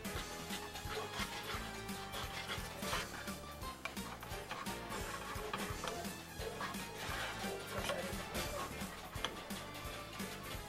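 Dogs bark and yip in the background of a home kitchen while caramel is being made, faint and scattered amid a steady clatter of cooking noise.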